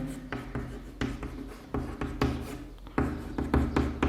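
Marker or chalk writing on a classroom board during a class 8 math lesson, a series of scratchy, rubbing strokes in uneven bursts with short taps between them, close and fairly clear with no voice.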